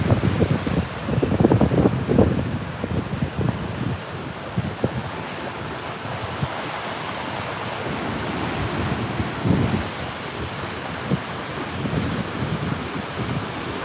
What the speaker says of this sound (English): It's a little cold though, a little breezy.